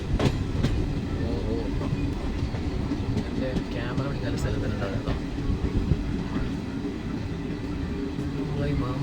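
Train rumbling and clattering along the tracks as it enters a tunnel, with a steady roar, squeals and clicks, and faint voices now and then.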